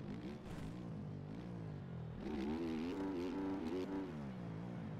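A motorcycle engine accelerates on the gas while riding a hill with jumps, a continuous loud rising and falling drone as the throttle opens and eases, with wind noise throughout.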